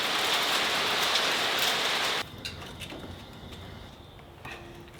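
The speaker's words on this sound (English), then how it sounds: "good hailstorm going on outside" A hailstorm roars outside as a loud, dense patter of stones on surfaces, then abruptly drops to a quieter, sparser rattling with occasional distinct hits.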